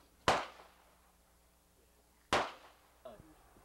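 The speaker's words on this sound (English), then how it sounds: "You want the AK now, Dave?" Two loud AK rifle shots ring out at a firing range about two seconds apart, each with a sharp crack and short decay, followed by a brief voice.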